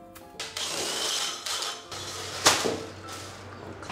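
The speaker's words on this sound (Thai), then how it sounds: "ผมจะเจาะเฉียงลงไปครับตัวรูนะครับ" A power drill bores a downward-angled hole through a house wall to fit an air conditioner's drain and line, giving a steady close whine with a few brief pauses and bursts in pitch.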